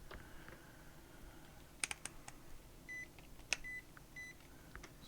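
A multimeter, switched into diode mode during a PlayStation 5 HDMI repair, gives several short, faint electronic beeps among soft clicks and handling taps from the rotary dial and probes, quiet and without talk.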